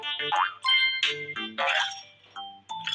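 Cartoonish springy boing effects from the bouncing red ball in the Red Ball 4 video game, several bright, tonal bounces in quick succession, loud and close with no talk.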